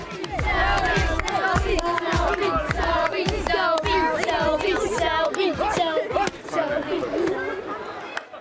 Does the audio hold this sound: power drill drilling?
no